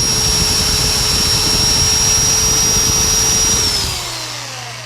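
Wood lathe running steadily as a parting cut is taken at the base of a turned wooden toothpick dispenser, a loud continuous whir that winds down and fades near the end.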